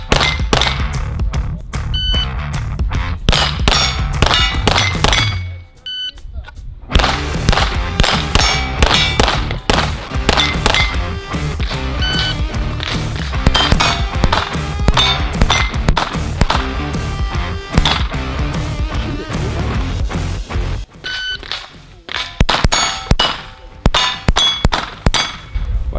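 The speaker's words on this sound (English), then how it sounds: "Why'd you shoot the start plate twice?" Rapid gunshots ring out against steel plate targets at a shooting match, each shot followed by a sharp metallic clang, fired in quick strings with short pauses between them, loud and close.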